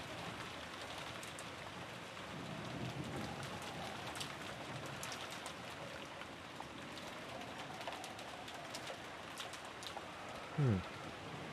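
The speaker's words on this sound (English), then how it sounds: "Peaceful rain, it seems." Steady, soft patter of rain fills the background, with a brief low bird-like coo near the end.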